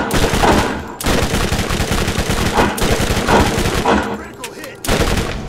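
Rapid bursts of automatic gunfire from the video game Borderlands fill the scene, loud and dense with repeated volleys separated by brief gaps, while a voice talks faintly underneath.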